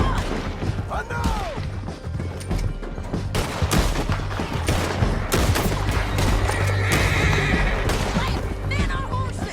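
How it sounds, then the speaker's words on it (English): In Red Dead Redemption 2 gameplay, horses whinny sharply near the start and hooves gallop beneath heavy gunfire volleys, with shouting voices breaking in throughout. "Men on horses!"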